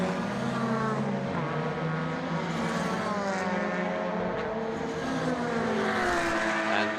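Honda and Porsche touring race cars battle closely in a Baltic Touring Car Championship race, several engines roaring loudly and continuously, with pitch rising and falling through gear changes as the cars pass near.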